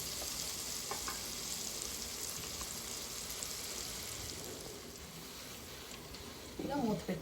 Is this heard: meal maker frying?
yes